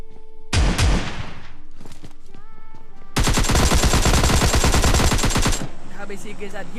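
Automatic gunfire in the PUBG video game: an opening burst, a few scattered shots, then a long sustained rapid volley, loud and close, with a voice talking underneath.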